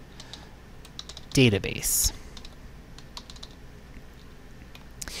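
Light, quick keystrokes on a computer keyboard while typing into a Microsoft Excel spreadsheet tab, with a short cluster of clicks and a brief spoken word partway through.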